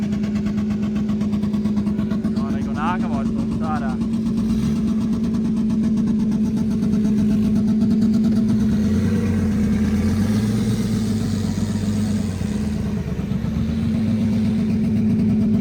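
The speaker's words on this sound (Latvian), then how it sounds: "Mašīnas tikai stāv uz vietu un rūcinās." Cars stationary at an SRT car survival race in Jelgava, their engines held and revved, giving a loud, continuous, rumbling drone with rising and falling pitch as someone speaks briefly nearby.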